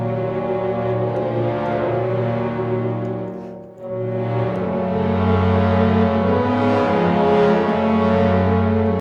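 A minor-thirds chord sequence voiced in tenths, with inner notes wiggling around the chords, rings out loud and sustained, with a brief dip partway through and no voices.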